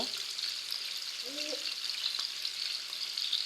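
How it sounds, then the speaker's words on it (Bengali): Steady crackling sizzle of rohu fish frying in hot oil in a pan, close and continuous, with a brief faint voice early on. "মাছগুলো ভাজা হইতেছে"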